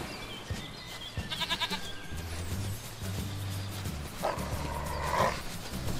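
Goat bleats from the video game Force of Nature, a couple of short, nasal cries over a low game hum and background ambience, moderately loud and fairly close.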